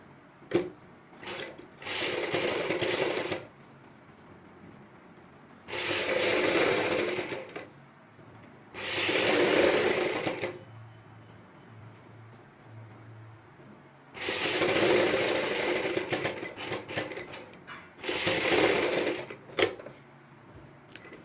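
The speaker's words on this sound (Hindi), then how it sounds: "अब दूसरी साइड भी हम इसी प्रकार सिलाई लगाएंगे।" A sewing machine stitches the side seam of a choli blouse in five separate close runs of several seconds each, with quiet handling of the fabric between the runs.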